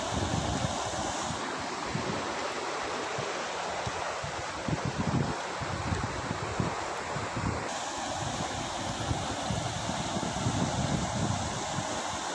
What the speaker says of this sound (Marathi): रस्त्यावरून वाहणाऱ्या पाण्याच्या प्रवाहावरून आपल्याला या पावसाच्या तीव्रतेचा अंदाज येऊ